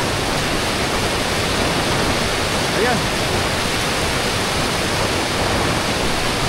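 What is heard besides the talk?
water rushing down a hillside after heavy rain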